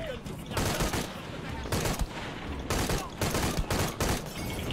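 Dense gunfire from the video game Shadow of the Tomb Raider, repeated volleys of shots crackling in bursts over a steady rumbling game background, moderately loud throughout.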